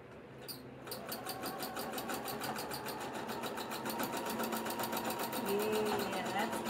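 A sewing machine fitted with a Superior Top Stitch 9014 needle starts up after a brief click and stitches steadily with a fast, regular needle rhythm, fairly quiet and close, with a brief voice near the start.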